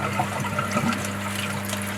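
Water back-flushes out of a Nexus pond filter after its centre stopper is pulled, a steady close rushing gush with a constant low hum beneath.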